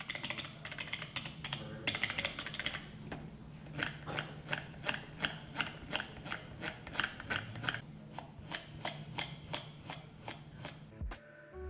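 Typing on a Figma mechanical keyboard: a fast burst of key clacks, then a steady run of individual distinct presses, close and moderately quiet, with no talking.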